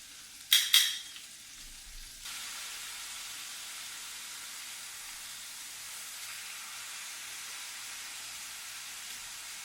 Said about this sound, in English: Alright, this thing is sizzling.